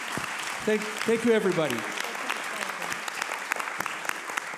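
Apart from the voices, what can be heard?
audience applause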